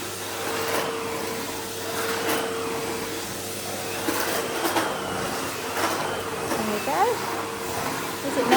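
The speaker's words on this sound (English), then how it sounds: "Let's go with the turbo brush on the carpet." A vacuum cleaner with a turbo brush runs steadily on carpet in a home, its motor a constant close hum with faint rattles, while a voice talks intermittently over it.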